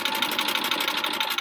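A sewing machine runs steadily while stitching halves of half-square quilt triangles, with a fast, even mechanical whir and rapid needle clatter, close up and without talking.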